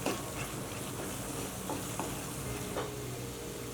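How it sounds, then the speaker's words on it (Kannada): Masala and chili powder roasting in a pan over a low flame while being stirred, giving a steady soft sizzle with faint scraping strokes, close and continuous, no voices. "ಲೋ ಫ್ಲೇಮಲ್ಲೇ 1 ನಿಮಿಷ ಹುರ್ಕೊಳ್ಳೋಣ. ಮಸಾಲೆ ಜೊತೆಗೆ ಖಾರದ ಪುಡಿ ಎಲ್ಲ ಚೆನ್ನಾಗಿ ಮಿಕ್ಸ್ ಆಗಬೇಕು."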